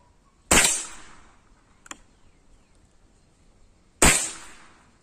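A Rossi R8 air rifle fires pellets, giving two sharp, loud shot cracks several seconds apart with quiet gaps between them and a faint click in between.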